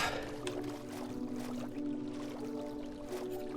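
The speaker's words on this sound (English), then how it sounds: "Can I just spawn a boat directly onto water?" A boat set down onto water in Minecraft gives a brief splash and lapping, watery trickle, quiet and close, with no talking.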